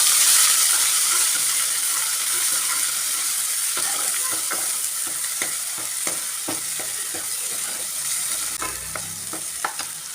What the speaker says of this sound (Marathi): वाटण छान परतून घ्यायचं आहे आपल्याला तेलामध्ये